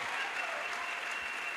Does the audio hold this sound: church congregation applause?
yes